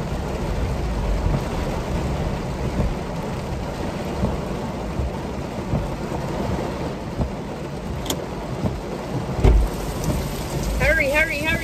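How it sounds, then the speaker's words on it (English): Heavy rain pours steadily in a dense hiss, with low thunder rumbling beneath it and a sharper crack near the end, a passing car adding to the wash. "Oh my God, it is freaking pouring, raining"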